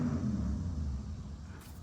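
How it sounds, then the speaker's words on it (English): Loud vehicle, a motorcycle or car, rumbling steadily outside on an early Saturday morning, a heavy low drone that holds throughout and eases slightly near the end. "I don't know what that motorcycle or car is, but it's quite loud."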